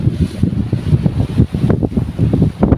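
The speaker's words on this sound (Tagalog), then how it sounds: "mahangin maalon kaya hindi makapangawil" Steady, blustery wind roars and buffets the microphone throughout, with low rumbling gusts that rise and dip, no voices present, at sea by a boat in choppy water.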